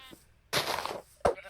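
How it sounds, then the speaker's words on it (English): Sheep in the Minecraft video game bleating in two short, close calls, each a brief nasal bleat over a quiet background. "I got some food from sheep"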